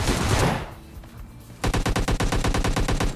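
Gunfire in the PUBG Lite video game: a burst of noisy shots, a brief lull, then a rapid, evenly spaced string of loud automatic rounds.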